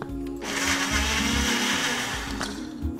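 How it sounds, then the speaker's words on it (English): A blender purees smoked tomato with a pinch of salt, its motor whirring loud and steady for nearly the whole stretch after a brief quiet start, with a slight change in pitch near the end. "then we're going to puree this"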